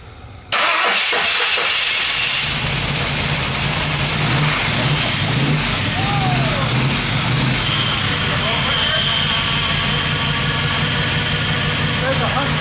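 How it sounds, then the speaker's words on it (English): A Ford Bronco under restoration fires up abruptly after cranking, then settles into a loud, steady idle with some revving, close by, while people talk over it. "I was not expecting it to just fire up, and it did."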